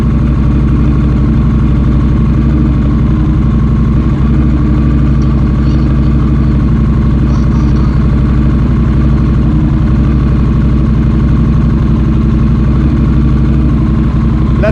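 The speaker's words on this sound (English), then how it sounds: "Let's turn the engine off." A motorcycle engine idles steadily and loudly close by, a constant low rumbling throb that holds without change and without talk.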